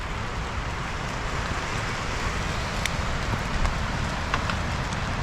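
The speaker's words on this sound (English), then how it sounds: "this is the first rain" The first rain of an autumn bike tour in Sweden falls as a steady, soft, broadband patter, with a few faint ticks of drops landing nearby.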